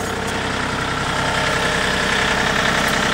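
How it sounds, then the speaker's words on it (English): Tractor engine idling nearby outdoors in winter, a steady low rumbling drone with a regular knocking pulse, running alone without voices. "sorry for the running tractor in the background"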